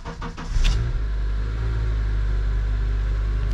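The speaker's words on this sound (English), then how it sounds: "First, let's start the Element and see." A Honda Element engine cranks briefly with a few rapid starter pulses, catches with a loud surge, then settles into a steady, close, low idle rumble.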